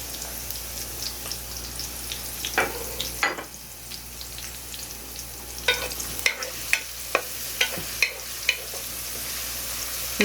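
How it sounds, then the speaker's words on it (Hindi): Two tablespoons of chopped garlic fry in a pan on low heat with onions, giving a steady soft sizzle. A series of scraping stirs and taps punctuates it, growing more regular toward the end. "लहसुन को 1 मिनट के लिए भूनेंगे ताकि इसका कच्चापन दूर हो जाए"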